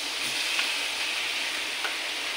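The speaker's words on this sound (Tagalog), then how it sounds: "prito-prituin lang natin ng konti na maprito, na mag-brown-brown ng konti sa kanyang butter and garlic" Pork belly fries in butter and garlic in a pan, giving a steady, even sizzle with faint crackles, close and moderately quiet with no talking.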